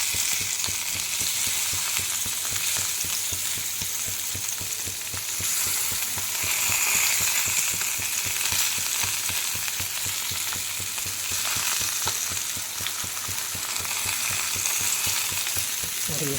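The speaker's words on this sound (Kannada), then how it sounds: "ಲೋ ಫ್ಲೇಮಲ್ಲಿ ಫ್ರೈ ಆಗಬೇಕು ನಿಧಾನಕ್ಕೆ" Stuffed green chillies fry slowly in oil over a low flame, a dense, even sizzle close by that holds steady throughout with no voices.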